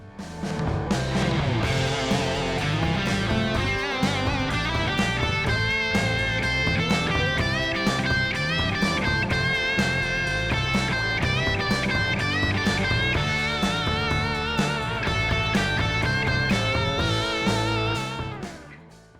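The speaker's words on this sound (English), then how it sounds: "What you just heard is a solo based on this extended shape." A guitar solo of quick plucked notes and runs plays loud and unbroken for nearly the whole stretch, with no voices.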